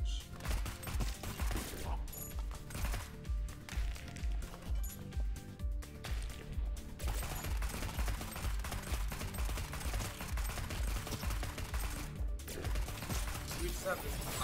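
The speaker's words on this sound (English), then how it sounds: "We just have this common spray of bullets" Rapid continuous gunfire sprays from a weapon in the roguelike shooter game Neon Abyss, dense rattling bursts running nearly nonstop over game music, with brief gaps between volleys.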